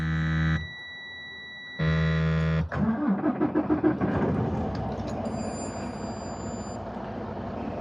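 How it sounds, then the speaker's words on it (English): Heavy truck engine starting during a low air pressure system inspection: two warning buzzer tones, then a rhythmic cranking that catches into a loud, steady diesel idle with a faint high whine. "Now start the truck."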